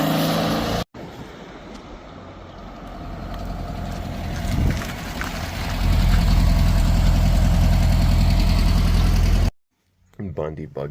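A vehicle engine idling after a cold start, a loud, rough mid-pitched rumble with knocking that rises and thickens partway through before cutting off abruptly near the end, with brief speech at the start.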